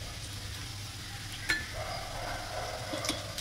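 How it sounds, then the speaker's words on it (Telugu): Bitter gourd with garlic and chili cooks in a pan, giving a steady low sizzle with a single sharp clink of a utensil against the pan partway through. "ఒకసారి అలా కలుపుకొనేసి సిమ్లో ఉంచేసి ఉడికించుకోవాలన్నమాట"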